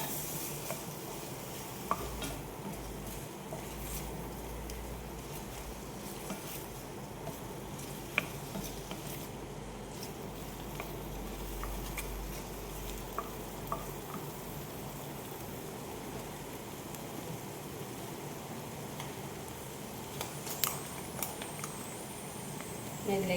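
Capsicum, small tomatoes and green chillies sauté in a pan with a soft, steady sizzle and occasional stirring scrapes and taps, quiet and continuous, with faint background noise.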